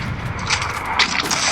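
Gunfire from the Free Fire video game rattles in quick bursts, sharp cracks overlapping with a few heavier booms, loud and close with no talking.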